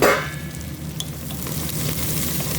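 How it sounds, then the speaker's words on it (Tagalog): Ingredients fry in a pan while being stirred, giving a continuous close sizzle with a few light scraping and clinking touches of the utensil. "So, ayan, mix natin. Palabasin natin ang aroma."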